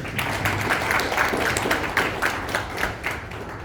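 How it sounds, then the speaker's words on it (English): An audience applauds to welcome speaker Susan Keeson at a mental health and spirituality event, brisk, rhythmic clapping from a moderate crowd, fairly close and sustained throughout with distinct individual claps standing out. "Please give us a huge round of applause."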